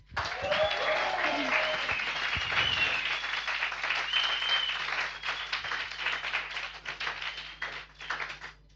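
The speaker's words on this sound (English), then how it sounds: "and I want another round of applause." Audience applause at a coding bootcamp demo day in Lisbon, a dense, steady wash of many hands clapping that holds strong throughout, with some sharper nearby claps early on, then gradually thins toward the end.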